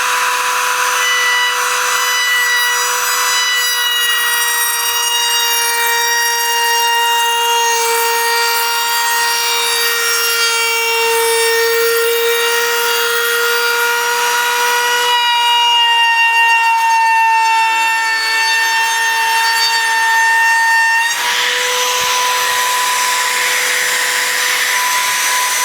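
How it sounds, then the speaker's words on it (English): Electric router cutting a clean round-over edge in wood for a beach decor project, a steady loud tonal whine with strong harmonics running throughout, shifting slightly in pitch as the cut changes. "Unplug jigsaw. Plug-in router."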